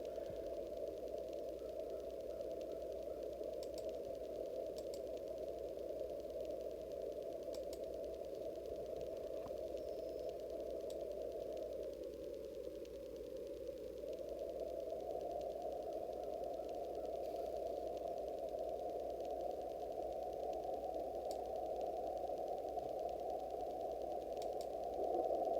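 AM radio receiver tuned to 774 kHz during a band scan gives a steady hiss and hum of faint, noisy reception, with no clear voice or music, continuous and droning throughout.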